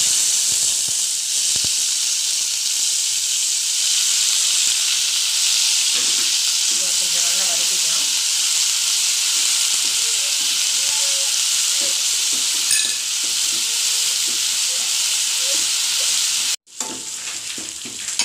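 A loud, steady sizzle of onions and green chillies frying in hot oil, with occasional stirring scrapes and a brief sharp knock near the end.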